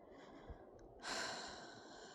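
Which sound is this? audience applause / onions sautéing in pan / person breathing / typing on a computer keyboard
person breathing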